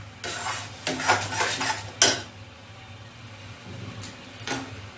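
A spoon scrapes and knocks around a pan of potol pasinda with green chili paste, a few loud clattering strokes in the first half and then quieter, sparser scrapes.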